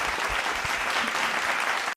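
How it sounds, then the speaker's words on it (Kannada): A live audience claps for the orchestra at a stage music show, a dense, even wash of applause that holds steady and then cuts off abruptly. "ಅದ್ಭುತವಾಗಿ ನುಡಿಸಿದ ವಾದ್ಯ ವೃಂದದವ್ರಿಗೆ ಒಂದು ಚಪ್ಪಾಳೆ ಬರಬೇಕು"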